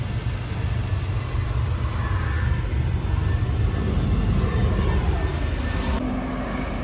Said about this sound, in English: there's a plane passing by every 2 minutes